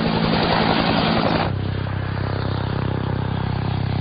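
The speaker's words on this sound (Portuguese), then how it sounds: "A primeira coisa que sempre notamos num helicóptero é o som da esteira do rotor principal batendo na esteira do rotor" Helicopter rotor noise, with the main rotor wake striking the tail rotor wake, as a loud, steady mechanical drone with rhythmic beating; a denser layer cuts off abruptly after about a second and a half.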